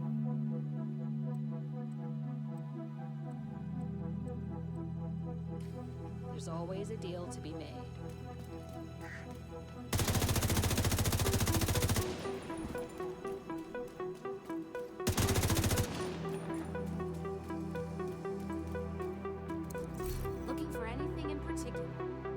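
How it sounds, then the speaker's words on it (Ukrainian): The Good Times machine gun fires in The Division video game in two loud, sustained bursts, followed by lighter rapid clicks, with game sounds and someone talking around it. "Кулемет Good Times."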